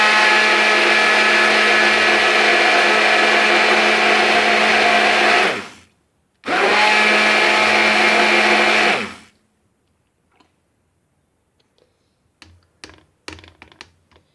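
Blender whirring loudly as it beats lassi with ice to separate butter, running steadily, cutting out briefly, restarting, then stopping, followed by a few faint taps.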